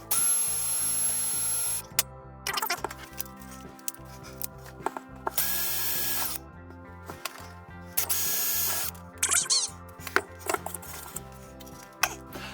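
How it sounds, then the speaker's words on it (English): Power drill in use during DIY pipe installation, repeated short bursts of whirring motor with stops and starts, close and moderately loud, with knocks and clatter between bursts. "I think I better get a drill out."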